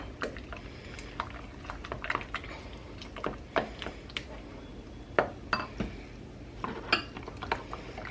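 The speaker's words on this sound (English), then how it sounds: "I'm just gonna kind of stir that together." A spoon stirs a honey mixture in a bowl, producing quiet irregular clinks and taps of metal against the dish with soft sticky scraping between, close by and faint, with no talk.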